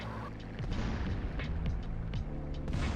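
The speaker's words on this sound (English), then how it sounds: "Just need to excuse the gang wars, lots of explosions and things happening down there." Rapid bursts of explosions and booming gunfire from gang wars in the SAMP multiplayer video game, several sharp blasts in quick succession over a low rumbling background.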